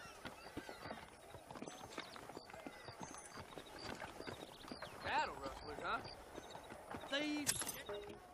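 Horses clip-clop softly in the background of a Western town street in Red Dead Redemption, steady hoof beats under quiet ambient game sound and occasional talk, with a faint whinny near the end.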